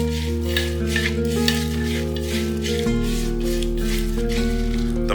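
Crushed tomatoes, sliced onion and Kashmiri chilli powder stirred in a clay pot for mutton handi, a steady wet sizzle with soft scraping, close and continuous over background music.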